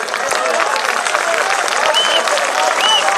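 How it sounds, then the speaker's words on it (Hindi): A steady wash of audience applause fills the space at an All India mushaira poetry recital, dense and continuous throughout, with some voices in the crowd underneath. "आपकी तालियां कम है"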